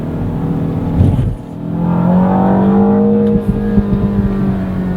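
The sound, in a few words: sports car engine accelerating through gears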